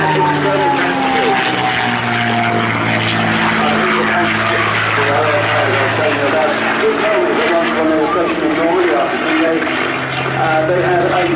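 A P-51D Mustang propeller fighter flying over Jersey makes a loud, steady engine drone with a smooth harmonic tone that lasts the whole time, while someone talks over it.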